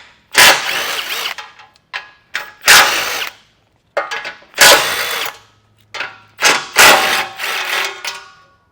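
A power tool with a 15mm socket runs off bumper beam bolts on a 2024 Buick Envista in several loud, close, whirring bursts of about a second, separated by short pauses and ratcheting clicks.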